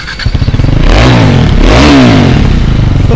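KTM Duke 390 motorcycle engine revving hard from a sputtering idle up to a loud, rising high-pitched roar, then holding near the top, very close and loud.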